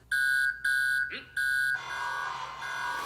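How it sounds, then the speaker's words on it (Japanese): An emergency alarm in an anime sounds as loud electronic beeping in repeated bursts, several pulses with brief gaps, before a steadier tone continues under a synthetic spoken announcement. "非常アラームが認識されました。"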